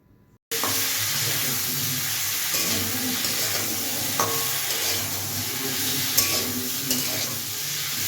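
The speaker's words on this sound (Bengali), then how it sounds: "নুন হলুদ দিয়ে নেড়ে চেড়ে আমি এর মধ্যে দিয়ে দেবো 2টো বড় সাইজের টমেটো।" Tomatoes go into a pan of sizzling oil seasoned with salt and turmeric for a drumstick vegetable curry, producing a loud, steady frying hiss with a few scattered clinks of stirring and no talk.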